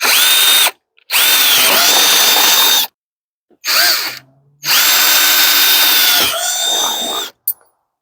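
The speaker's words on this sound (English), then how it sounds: "So I need to put a hole in the plastic." A power drill bores a hole into the plastic of an IBC tote, running loud and close in several steady high-pitched whirring bursts separated by brief silences, the last few runs short and stuttering.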